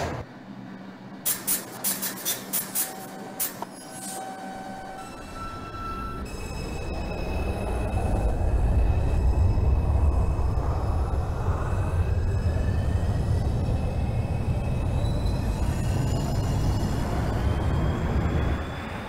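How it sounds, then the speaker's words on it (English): A Brooklyn-bound 2 train in the OpenBVE subway simulator pulls away from a station, door chimes giving way to a swelling motor whine and steady rumble of wheels on rail that builds and holds loud to the end. "This is a Brooklyn-bound 2 train."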